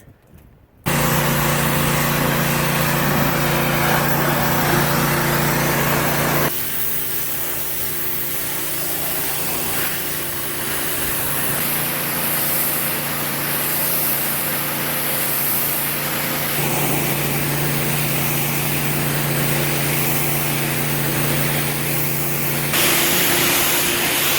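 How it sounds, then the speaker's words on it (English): Pressure washer blasting grime off a shanty boat hull, a loud steady hiss and roar of water spray with a droning motor underneath, shifting in tone as the jet moves across the surface. "being pressure washed off of it"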